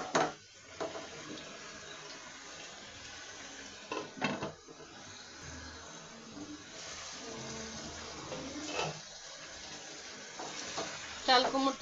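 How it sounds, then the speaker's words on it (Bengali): Chopped ash gourd being stir-fried in a pan, a quiet continuous sizzle broken by intermittent scraping and clinking strokes, close but faint throughout. "চাল কুমড়োটা ভালো করে না কষালে ভালো লাগবে না"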